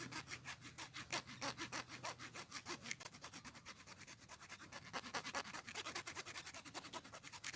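A hacksaw cuts steel with steady back-and-forth sawing in a fast, even rhythm of rasping strokes, close up and continuous, no voices.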